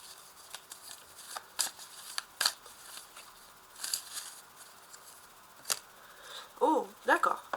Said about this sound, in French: Je vais tirer ici d'autres cartes pour voir un peu le prochain message qui ressort pour vous